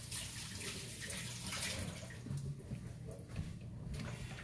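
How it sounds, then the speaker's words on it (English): Fingers rinsed under a running kitchen tap while cooking corned beef and cabbage: a steady, soft hiss of flowing water with slight splashing, fairly quiet and continuous, with no talking. "Let me rinse my fingers off here real quick."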